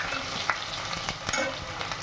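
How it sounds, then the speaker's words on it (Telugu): Green chilies and garlic sizzle and fry in a pan, with a steady crackle and occasional stirring scrapes. The sound is close and continuous, and no one speaks. "పచ్చిమిరపకాయలు కొంచెం వేగితే చాలండి"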